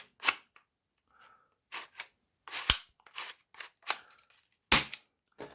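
A Tovol Zerky Knight dart blaster's spring mechanism is cocked and handled, producing a series of sharp, close plastic clicks and snaps at irregular intervals, separated by silence and with no talk.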